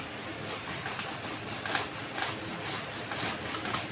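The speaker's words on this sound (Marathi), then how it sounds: "सगळं किसून घेते आंबा सगळीकडून सगळ्या बाजूनी" Ripe mango being grated by hand on a large coarse grater for a Solapuri-style sweet mango dish, a steady rhythmic rasping scrape repeating about once every half second, close and fairly loud with no talking.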